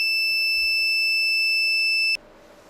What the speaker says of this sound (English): the buzzer will sound for 1 minute every time the motor receives a trigger from the remote